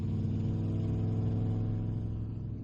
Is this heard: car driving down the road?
yes